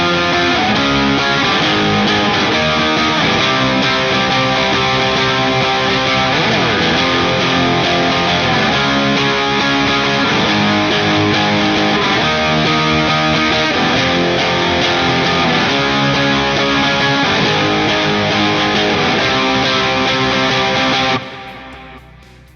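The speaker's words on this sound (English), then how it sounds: "This is a German-made guitar that stands out with its double-cut design and P90s pickups, offering raw and punchy tones with an old-school feel." A German-made double-cut electric guitar with P90 pickups plays a steady, full-bodied rhythmic part with raw, punchy tone, running continuously and loud before stopping abruptly near the end.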